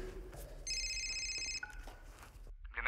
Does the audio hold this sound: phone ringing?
yes